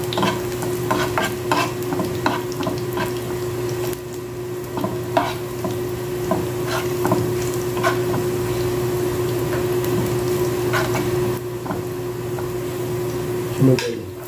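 Garlic fries in hot oil for an eggplant omelette, a continuous close sizzle broken by stirring clinks and scrapes of a utensil in the pan, under a steady low hum, with a voice speaking briefly.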